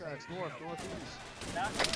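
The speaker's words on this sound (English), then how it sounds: "Big boy cannon." A tank cannon fires in a Vietnam-era SOG prisoner-rescue combat video game, a sharp booming blast cutting in late amid other battle noise, with voices talking over much of it.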